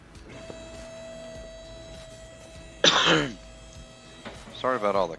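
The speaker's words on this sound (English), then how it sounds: "Sorry about all the coughing. I got a frog in my throat or something today." A man coughs in a harsh burst, then clears his throat a few times, close and fairly loud over a quiet background with a steady hum.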